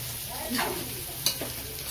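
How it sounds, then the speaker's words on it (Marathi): Chicken pieces frying in hot oil in a cooking pot, a soft steady sizzle with a few scraping stir sounds and one sharp clink, close and moderately quiet, no talk. "तर आता चिकन टाकलेलं आहे"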